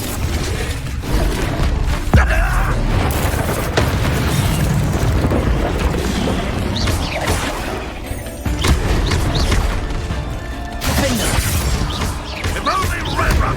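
Repeated Confringo explosive spells in Hogwarts Legacy combat, loud booming blasts and crackling bursts layered over busy battle noise, with voices shouting between impacts.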